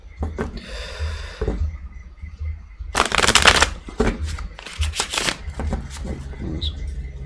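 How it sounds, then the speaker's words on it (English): Bursts of riffling and flicking as a deck of tarot cards is shuffled, in several quick rustling runs with short pauses, close by. "I'm going to shuffle again."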